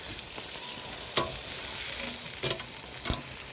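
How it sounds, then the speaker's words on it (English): Pork belly sizzles on a Korean BBQ grill, a steady close crackling hiss with a few sharper pops and scrapes of stirring, no voices. "Pork gotta cook a little longer, man. It'll be crispy."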